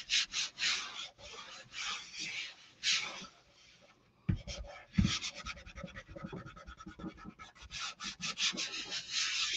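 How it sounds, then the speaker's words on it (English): Firm rubbing and scraping strokes as a stencil is burnished flat onto a fabric tote bag, steady rasping passes up close with a brief pause midway, then quicker short strokes. "So then I'm going to really burnish it well. Make sure it's super stuck down."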